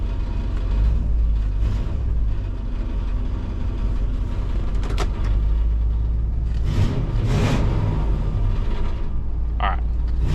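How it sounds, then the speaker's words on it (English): A bus engine idles and revs steadily throughout with a rough, rattling exhaust, a continuous low rumble that stays loud; a person talks over it. "But the exhaust has got a terrible rattle."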